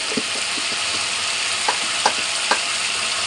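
Egg curry masala sizzles in a pan with cumin, chilli and turmeric powders, a steady close frying hiss broken by a few sharp scraping stirs of a spoon.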